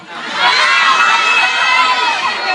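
A crowd of fans screams and shrieks continuously at a mall fan meeting for a The Star singing-contest winner at B2S Robinson Ratchaburi, loud and dense, rising after a brief start and holding steady throughout.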